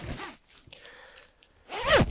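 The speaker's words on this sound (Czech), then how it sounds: "Zip je dvoucestný" A two-way zipper on a Helikon Wolfhound hooded jacket runs in two quick, close ripping strokes, the second longer and louder, with a short quiet gap between them.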